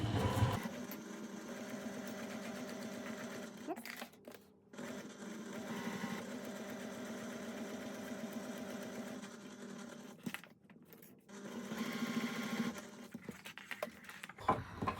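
A sewing machine runs in steady motor bursts while stitching a cotton wallet with a quarter-inch seam, pausing briefly at pivot points before starting again. It sounds close and clear, and no one talks over it.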